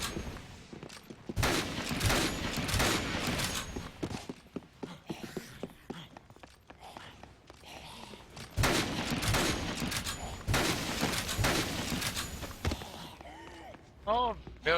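Bursts of gunfire from the Dead Rising video game, rapid shots in clustered volleys separated by quieter gaps, mixed with footsteps and game noise, while a player talks over them.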